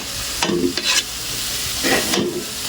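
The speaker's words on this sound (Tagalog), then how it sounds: "Gigisa muna natin." Vegetables for chop suey sautéing in a hot pan, with bright sizzling and a few scraping stirs of a utensil against the pan in short bursts over a steady frying hiss.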